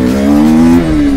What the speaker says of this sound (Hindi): बाइक फर्स्ट गियर पे 12 की स्पीड पे RPM बढ़ाए और ये क्लच को किया रिलीज